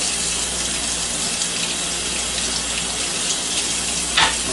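Water runs steadily from a kitchen tap in a loud, continuous gush while mussels are rinsed, with a brief splash near the end.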